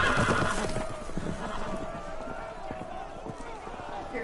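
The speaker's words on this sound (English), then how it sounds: "The horses! They're loose!" Loose horses: a horse whinnies amid a busy, chaotic scene, with hoofbeats and commotion mixed under voices and a steady background rumble.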